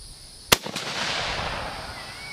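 Single sharp report from a Springfield 30-06 rifle fired at a shooting range, one loud crack followed by a short echo and a lingering noisy tail.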